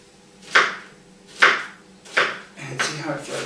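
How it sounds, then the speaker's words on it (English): Onion being chopped quickly with a Nudo chef's knife, four sharp chops on a cutting board spaced under a second apart, close and fairly loud with no talking. "We're going to cut an onion real fast."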